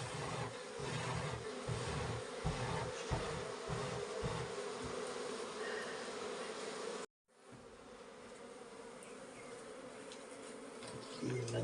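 A swarm of bees buzzes steadily around a honeycomb during a village honey harvest in the Uttarakhand hills, a loud, dense drone that briefly cuts out and then resumes a little quieter.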